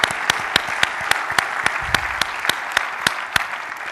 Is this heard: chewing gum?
no